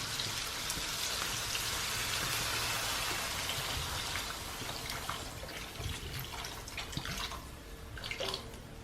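Water pours steadily from a plastic Poland Spring bottle with a splashing, bubbling rush, close by, gradually becoming more broken and gurgling toward the end.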